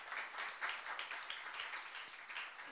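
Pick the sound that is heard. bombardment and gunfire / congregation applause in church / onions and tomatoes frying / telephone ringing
congregation applause in church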